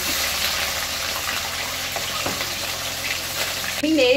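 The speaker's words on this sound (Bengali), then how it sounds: "আস্তে তেল ছিটকাচ্ছে।" Oil spatters in a pan as a paste of mustard, poppy seed and dried and fresh chilies fries, a loud continuous sizzle with crackles, before a voice briefly starts at the end.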